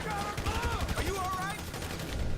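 Gunfire from Grand Theft Auto V at the Union Depository, dense bursts of shots running through the whole stretch under a busy game soundscape, with voices mixed in.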